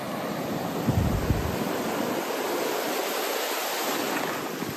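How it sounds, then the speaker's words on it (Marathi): Sea surf rushes in a continuous roar, a large wave breaking close by early on, with wind buffeting the microphone. "आणि आता मोठी लाट येते, हे बघा."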